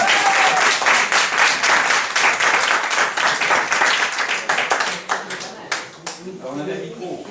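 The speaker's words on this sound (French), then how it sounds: "nous l'applaudissons bien fort." Audience applause for an American star guest at a crime fiction, TV and film event, loud dense clapping from a crowd that gradually breaks into scattered claps before a voice speaks near the end.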